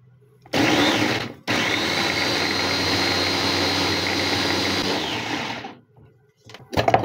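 A blender grinding onions, garlic and ginger with a little water whirs loudly and steadily for several seconds after a brief first burst, then cuts off. A few faint clatters follow.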